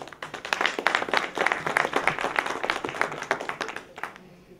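A modest audience at an expo event applauds a guest judge with distinct, fairly near claps that fade out toward the end.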